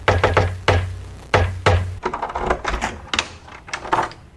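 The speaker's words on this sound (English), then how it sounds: "Just then, a knock at the door is heard." Several sharp raps sound in quick clusters, loud and close, then give way to softer shuffling and clattering movement.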